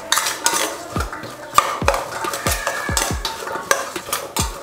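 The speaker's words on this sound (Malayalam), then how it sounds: "നമുക്കിതെല്ലാം കൂടെ ഒന്ന് ആഡ് ചെയ്തിട്ട് മിക്സ് ചെയ്ത് കൊടുക്കുക" Spoon stirring Kerala-style yam stir fry with chili powder and salt in a pan, repeated scraping strokes and clinks in a steady rhythm, close and alone.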